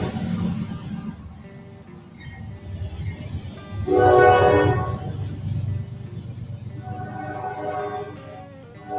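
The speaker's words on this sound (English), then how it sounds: "Can you hear the train coming?" A train rumbles past at a steady distance, its low roar swelling as a sustained horn sounds in the middle, then fading back into a continuous rolling drone with no voices.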